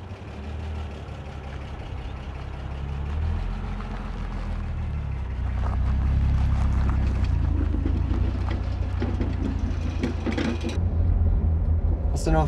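A car engine runs steadily at low pitch in a staged sound design scene, a continuous rumble that builds slightly before a brief cutoff near the end.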